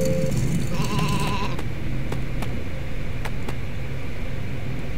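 Sheep bleat several times in quick succession in the video game Isle of Ewe, over a dense, steady wash of background noise, with a few sharp clicks near the end.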